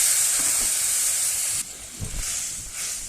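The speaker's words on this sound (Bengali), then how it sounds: "দেখো মশলাটাকে ভালো করে একটু কষিয়ে নেবো" Spice paste for a rohu fish kalia curry frying in a pan, a steady close sizzling hiss that drops suddenly midway, followed by a few soft clunks of stirring.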